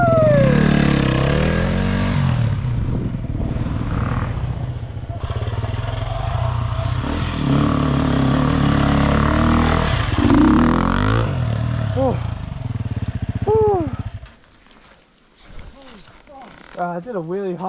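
A dirt bike engine revs hard and continuously while climbing a hill at Bawley Point, loud and close with rising and falling pitch. It drops away near the end, and people shout and talk over it.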